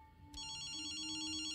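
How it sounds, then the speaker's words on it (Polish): A phone starts ringing in the video game Ghostwire: Tokyo, a sudden electronic telephone bell that kicks in after a brief quiet lead-in and keeps trilling steadily, fairly quiet overall. "Telefonkiem. Lepiej odbierz."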